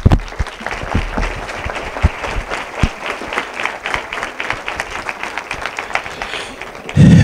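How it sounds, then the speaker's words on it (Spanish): Audience applause greets the mayor of Palma del Río at a documentary screening, a dense steady patter of many hands clapping for about seven seconds, fairly loud and close, ending with a brief burst of noise. "Un aplauso, por favor, para la alcaldesa."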